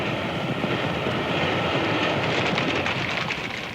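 Steady broadband rumble of a railway carriage rolling along the track, continuous and fairly loud throughout with no talking.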